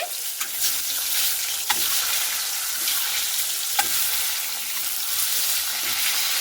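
Eggs fry in hot oil seasoned with turmeric and salt, giving a loud, continuous close hiss and sputter with a few sharp pops and clicks scattered throughout. No voices.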